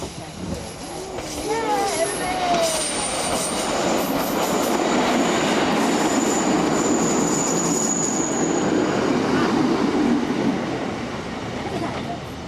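The Tamar Belle train rumbles past nearby, a broad steady roar building and holding for several seconds with faint squeals, then easing slightly at the end.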